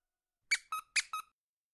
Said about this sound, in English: We can leave your squeaky toys all over the ground.